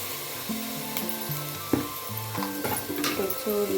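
Chicken pieces frying with cooked onions in hot oil for a home chicken gravy, a steady sizzle with stirring clatter and occasional sharp scrapes, while soft background music plays.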